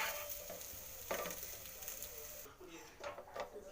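Raw banana slices sizzle and fry in a pan while being turned over, a steady close crackle broken by a few scraping stirs and brief bumps of the spatula.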